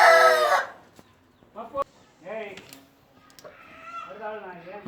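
A rooster on a goat and chicken farm crows loudly and close at the very start, followed by softer, voice-like calls and murmurs from around the yard.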